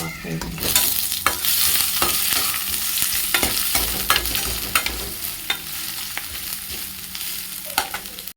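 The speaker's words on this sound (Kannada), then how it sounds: "ಒಗ್ಗರಣೆ" Spices tempering for an ivy gourd palya, with a steady hot-oil sizzle and repeated sharp stirring scrapes close up, no talking.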